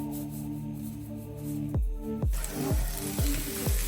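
Fish is fried in coconut oil in a pan, a steady hiss of hot oil broken by several sharp thuds and clatters as pieces are moved, heard close with no talking.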